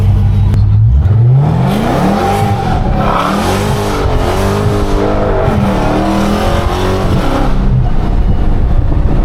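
A Dodge Hellcat's supercharged engine roars loud and close, revving up through a long acceleration run with a rising whine and a brief chirp of tires, then holding a strained, high drone.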